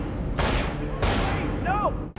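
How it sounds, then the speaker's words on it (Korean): Two loud gunshots ring out from an office about half a second apart, each with a long echoing tail, followed by a brief voice-like cry. "사무실에서 들려오는 총소리."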